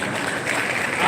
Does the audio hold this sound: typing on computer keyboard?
no